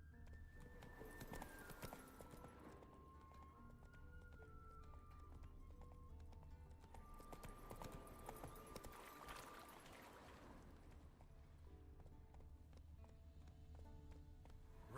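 The horse Roach gallops in The Witcher 3 with rapid, steady hoofbeats running the whole time, quiet in the mix under tonal game music.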